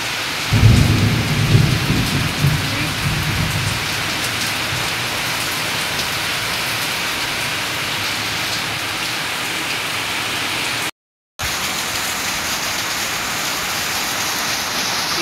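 Heavy downpour pounding steadily on a rooftop during a storm, with loud thunder rumbling near the start, then a constant dense roar of rain that continues after a brief silent gap.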